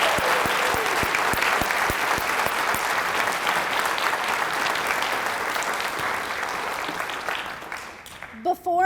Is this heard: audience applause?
yes